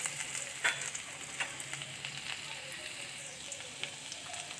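Chopped garlic and ginger sizzle in melted butter, a soft continuous frying crackle with small pops, heard close and alone.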